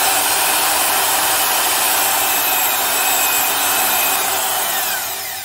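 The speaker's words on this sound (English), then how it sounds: "a truly heavy duty, low speed, half inch mixing drill, you can't really deny the 1660." Milwaukee 1660 heavy-duty half-inch low-speed corded mixing drill running steadily on its own, a loud, close, even whirring whine that eases slightly near the end.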